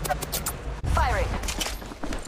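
Gunfire in the mobile shooter Apex Legends Mobile: a burst of shots with bright, ringing tails. A game character's voice speaks over and around it.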